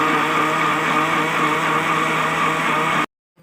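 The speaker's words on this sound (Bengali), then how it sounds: "তো দিয়ে এবার এটা আমি ব্লেন্ড করে নিব।" A kitchen blender whirs at a steady high speed, blending fruit with cold fridge water. The motor drone is loud and even, then cuts off abruptly near the end, leaving near silence.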